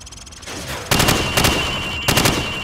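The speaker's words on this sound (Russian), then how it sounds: "Теперь стреляй по мишеням от бедра." Rifle gunfire in Call of Duty 4 fires from the hip at targets on a range, loud and close, coming as a few quick bursts of repeated shots with brief gaps between them.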